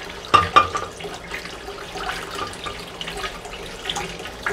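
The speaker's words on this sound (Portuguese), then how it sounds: "Liga a torneira mais um pouquinho." Tap water runs steadily into a sink while wooden-handled pocket knives are rinsed, with a couple of sharper splashes near the start and a constant low rush throughout.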